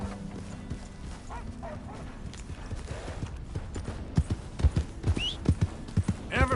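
Horse hooves in Red Dead Redemption 2 clip-clop in an uneven rhythm, growing louder and closer toward the end, with a brief whinny amid the trotting.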